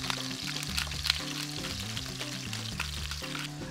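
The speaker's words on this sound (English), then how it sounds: "we're gonna lay the chicken away from me like this, into the pan" Chicken pieces laid into a hot pan fry with a steady, close sizzle and crackle, continuous and fairly loud with no one talking.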